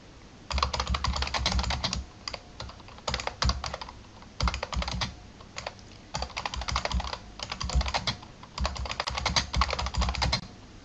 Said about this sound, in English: here I've got a segment with no translation memory, so I'm going to type the translation in here